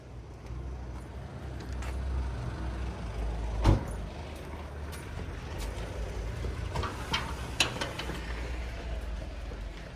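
A car turns around on a street, a low steady engine rumble with passing traffic, a sharp thump partway through and a few clicks and knocks, no talking.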